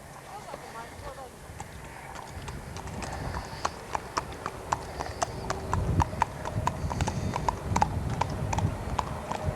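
Horse hooves clip-clop steadily as the horse is ridden outdoors on a windy day, the regular sharp strikes growing slightly louder toward the end, with talk and wind noise underneath.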